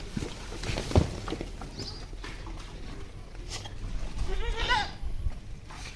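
Barbari goats bleat a few times amid farmyard background noise, with a louder bleat toward the end and faint voices nearby.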